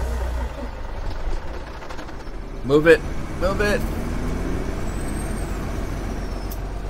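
Truck in the video game Farming Simulator 17 gives a sharp hiss of air brakes midway over a low engine rumble, while someone shouts briefly over it.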